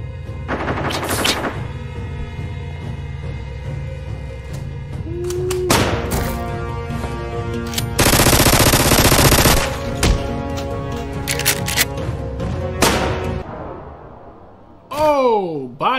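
Gunfire in an animated episode comes as sharp bursts and a sustained rapid volley, mixed with music and other effects. Loud cracks cluster at the start and middle, and a short sweeping sound follows near the end.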